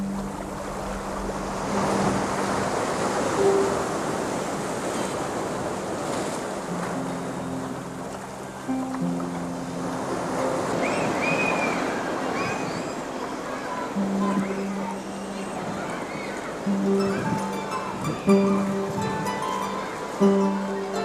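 Sea waves wash steadily at Freshwater Bay, a constant broad rush mixed with wind noise, with some tonal sounds above the surf and low murmuring at times.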